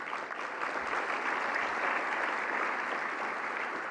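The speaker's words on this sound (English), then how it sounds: "Big round of applause for them." Applause from an audience at a county government event honoring a high school jazz ensemble, a dense, steady wash of many hands clapping throughout, fairly loud and unbroken.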